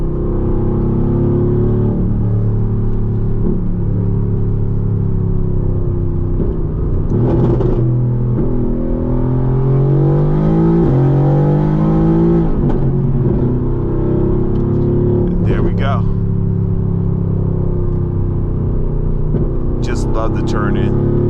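A Mercedes-AMG GT R drives and accelerates, its engine droning and rising in pitch through several throttle pulls from inside the cabin, loud and continuous, with someone speaking over it.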